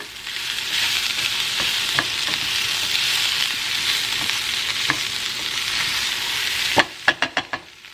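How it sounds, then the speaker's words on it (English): Peppers and onions sizzle steadily in a frying pan while being stirred, a constant crackling hiss, ending with a few sharp scrapes or taps of the utensil against the pan. "let me put the peppers and onions back in to the pan, stirring to combine everything"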